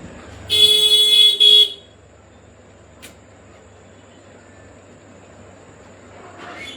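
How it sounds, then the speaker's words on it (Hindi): A passing train sounds a loud horn blast of about a second, followed by a low, steady rumble that carries on under faint background noise. "कितना शोर होता है ना गाड़ी का"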